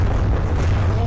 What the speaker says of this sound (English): that was a huge penetrating shot. Right into the center of the Papel there.